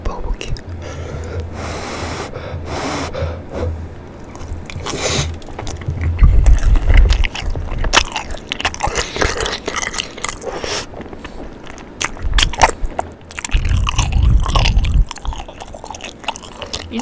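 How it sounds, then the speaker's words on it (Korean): Close, wet chewing of chewy cream shrimp, with soft smacking and bites, recurring in bursts over a quiet background. "쫀득쫀득한 크림새우 먹어볼게요."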